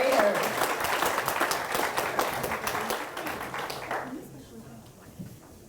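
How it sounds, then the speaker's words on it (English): An audience claps for a group of first graders at a school assembly, with sustained applause that fades after several seconds into quieter room noise. "one last big round of applause for our first graders"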